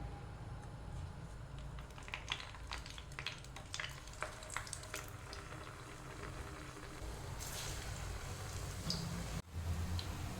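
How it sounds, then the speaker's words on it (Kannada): Urad dal vadas frying in hot oil over a slow flame, a steady close crackling sizzle with scattered pops and ticks running throughout, a brief thump near the end. "ಹಾಗೆಯೇ ಇದನ್ನು ಸ್ಲೋ ಫ್ಲೇಮಲ್ಲಿ ನಾವು ಫ್ರೈ ಮಾಡಬೇಕು"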